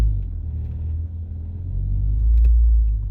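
A 1996 Honda Prelude Si on a newly fitted clutch with a new slave cylinder rumbles steadily at low engine revs, a deep close drone that swells briefly as it pulls, with no talking.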